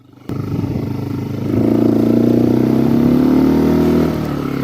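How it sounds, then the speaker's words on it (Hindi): A motorcycle engine runs close by, rising from a steady idle into a louder, sustained rev as the throttle opens, then easing slightly at the end. "और एक्सीलेटर लीजिए, हल्का सा, हल्का सा और लीजिए"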